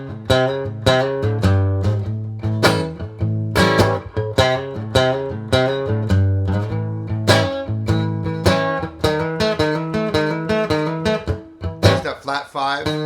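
Blues guitar lick on electric guitar moving from the flat five to the five and resolving to the root, a steady run of clearly picked notes played alone, close and moderately loud.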